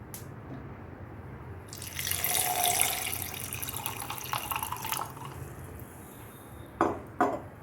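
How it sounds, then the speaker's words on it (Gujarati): Water poured into a glass holding mint and coriander leaves with ice cubes for spiced buttermilk, a steady splashing pour of a few seconds, moderately close, with a couple of short clinks near the end. "હવે આપણે એમાં એડ કરીશું વોટર."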